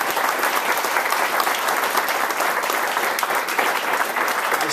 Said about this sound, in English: So have a round of applause for